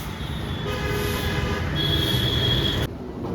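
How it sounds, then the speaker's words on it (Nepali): A New Delhi metro train runs with a steady rolling rumble and thin high wheel squeal tones, loud and continuous before the sound drops slightly near the end. "new Delhi metro"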